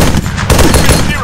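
Gunfire in the military shooter game Arma 3, a dense burst of loud shots with several sharp bursts across about a second, close and busy, with a voice partly mixed in.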